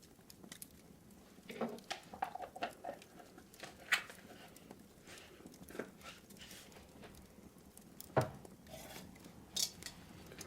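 A teaspoon scoops hot chocolate powder in a cozy café setting, giving soft scrapes and light metallic clinks scattered irregularly, close and quiet, with a few sharper taps standing out.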